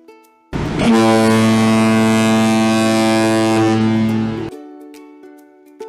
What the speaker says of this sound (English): The boat's horn.